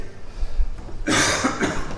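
A single loud, harsh cough bursts out after a moment of quiet rustling, close and abrupt.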